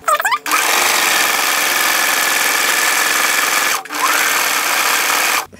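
A sewing machine sews a buttonhole in loud, steady, fast whirring bursts, running for several seconds, stopping briefly, then starting again for another short run.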